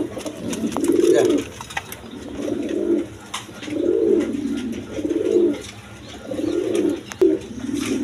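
Bombay pigeons, a male and a running female pair, coo in steady repeated low throaty phrases close by, several rounded bursts following one another with brief pauses.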